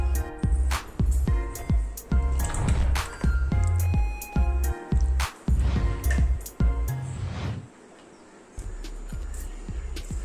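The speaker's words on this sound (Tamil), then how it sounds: "இப்போ இதை குல்ஃபி மோடில் ஊற்றிடலாம்." Instant malai kulfi mixture is poured into kulfi moulds with repeated wet, squishy glugs and small knocks and clicks of the moulds, fairly close and steady before a brief quieter stretch.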